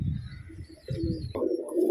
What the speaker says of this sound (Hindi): तो आने दो अभी कबूतर कोई।